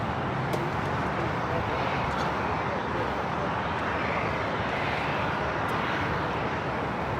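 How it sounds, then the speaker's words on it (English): An Asiana Airbus A380 airliner at LAX, a loud, dense engine roar filling the whole stretch with constant broadband rumble and hiss, close and steady, a few faint clicks on top. "Asiana A380 Super"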